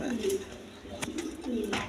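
Paired pigeons coo softly and repeatedly, low throaty calls rising and falling close by, with a few faint clicks between them.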